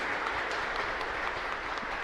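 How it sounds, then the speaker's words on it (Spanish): A congregation in a chapel applauding during a live Mass, a soft, steady spatter of many hands clapping heard from some distance. "Fuerte aplauso para todos ustedes aquí,"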